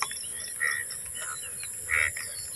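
Frogs calling on a rainy day in a village, two distinct short croaks a little over a second apart, moderately loud against soft steady background noise, with no one talking.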